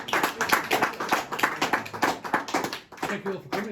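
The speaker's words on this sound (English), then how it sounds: "I think another round of applause is in order." Audience clapping at the close of an evening music performance, a loose, rhythmic patter of hands with voices audible underneath, moderately close.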